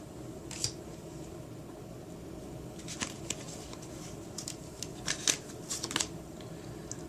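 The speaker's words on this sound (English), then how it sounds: "let me go ahead and pull 9 cards" Tarot cards slid and pulled from a deck one at a time during a love reading, giving a few soft, close papery swipes and flicks scattered over a quiet background.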